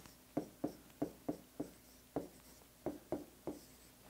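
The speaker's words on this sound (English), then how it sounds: "So I'm going to write it down right here." Chalk or marker strokes an equation onto a board during a math lesson, roughly a dozen short, sharp taps and scratches in uneven rhythm, close and clear against a quiet room with no talking.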